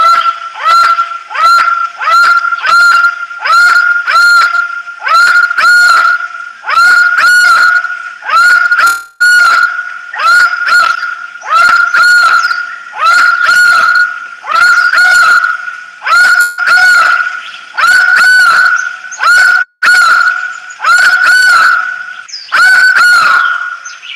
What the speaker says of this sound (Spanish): ese pájaro está diciendo su nombre en el canto, se llama guaco